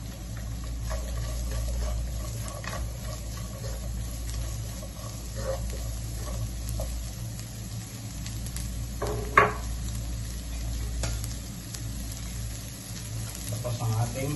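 Onions frying in a pan for carbonara, a steady broadband sizzle running throughout with occasional stirring clinks and one sharp knock.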